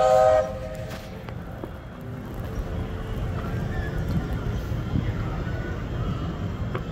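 A steam locomotive rumbles steadily along on a run around a park, with a low, continuous chugging roar, opening with a brief high whistle blast at the start.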